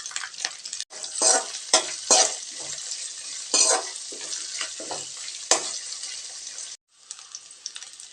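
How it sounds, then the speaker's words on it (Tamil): Onions sautéing with curry leaves in a pan: a steady, close sizzle broken by repeated scraping stirs, with a brief drop near the end and no talking. "இப்போ வெங்காயம் நல்லா வதங்கட்டுங்க."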